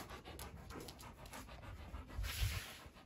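A white female dog panting quickly and rhythmically close to the microphone, quiet breathy huffs repeating steadily with a brief louder rustle near the end, no talking.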